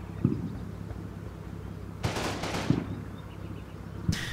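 Machine gun fire in the World War II strategy game Combat Mission: Battle for Normandy, with a team suppressing tank hunters. Two rattling bursts come at a distance, with dull low thumps scattered beneath a steady background rumble.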